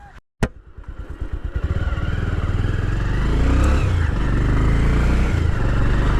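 A Bajaj Pulsar twin-disc motorcycle engine idles with a steady low throbbing rumble after a sharp click, close and loud, holding a continuous thumping rhythm.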